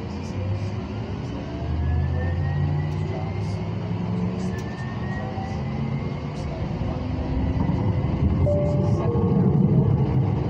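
A CATS LYNX Siemens light rail train pulls away, its rising motor whine sliding upward in pitch over a steady low rumble of wheels, growing slightly louder as it gathers speed.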